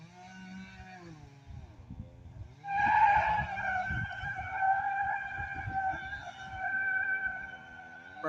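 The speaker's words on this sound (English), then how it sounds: "Burning through that tire." A vehicle tire spins and burns out during a tree removal in Phoenix. A strong, sustained squealing whine rises abruptly and holds steady to the end over a low engine rumble, with no voices.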